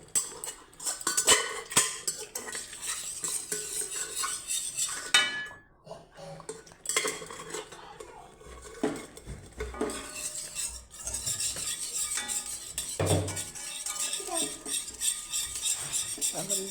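A spoon keeps stirring white pasta sauce in a pan, giving steady close scraping and clinking of metal on metal with short pauses, and no talking.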